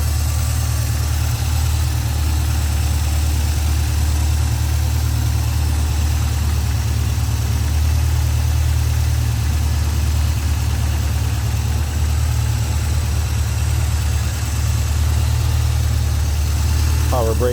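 A 1977 MG MGB's inline four-cylinder engine with Zenith Stromberg carburetor idles steadily and loudly up close, a low even rumble throughout, while someone talks over it.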